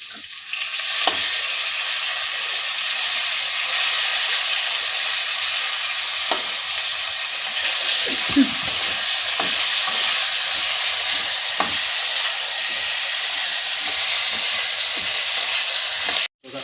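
Chopped tomato hits a curry base in a hot pan, raising a loud, continuous frying sizzle with occasional scraping stirs and small clinks, heard alone up close.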